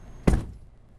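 A truck clips a car's side mirror on the US 60 bridge over the Mississippi River, giving one short, hard thud that fades quickly against low road rumble.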